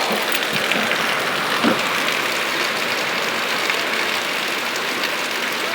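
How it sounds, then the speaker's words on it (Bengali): Heavy rain falls steadily outdoors, a dense continuous hiss of drops on surfaces heard from a shop front, with a low engine hum faintly underneath. "এত সুন্দর বৃষ্টি পড়ছে"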